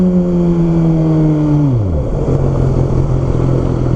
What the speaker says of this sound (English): this is my first time in a long time riding a truly a truly super bike